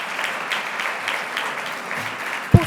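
A gala audience at an honour-scholarship award ceremony breaks into sustained, even applause that fills the room, ending with a sharp thump.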